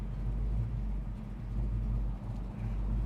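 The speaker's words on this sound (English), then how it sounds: "Listen to the idle. We're idling nice." A 1972 Chevrolet Chevelle SS engine idles smoothly with a deep, steady low rumble and faint rhythmic pulsing, close and continuous, without talk.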